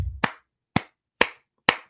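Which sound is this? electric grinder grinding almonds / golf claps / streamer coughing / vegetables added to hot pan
golf claps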